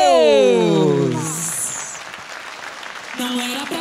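A live audience applauds and cheers for a Brazilian sertanejo duo taking the stage at a music show, the clapping loud at first and then thinning out as a voice speaks over it.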